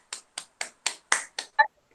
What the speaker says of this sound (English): Clap your hands, children.